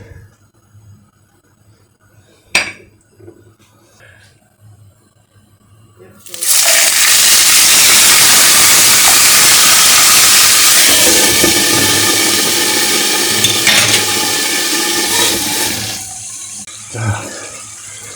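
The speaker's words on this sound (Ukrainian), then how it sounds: "Зараз будемо його обсмажувати. Додайте трохи соняшникової олії." Pork pieces hit hot sunflower oil in a pan, and a loud, steady sizzle bursts in and holds for about nine seconds before easing off. Quieter kitchen clatter comes first.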